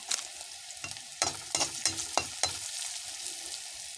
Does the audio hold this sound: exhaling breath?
no